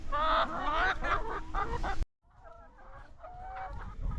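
Free-range hens in a mobile chicken caravan cluck and chatter in a steady, busy stream, loud and close at first, then softer and more scattered after a brief silence.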